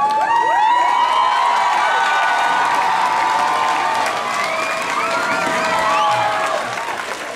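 An indoor audience at an end-of-evening school ceremony applauds steadily, with girls' excited shrieks, whoops and cheers riding loudly above the clapping throughout.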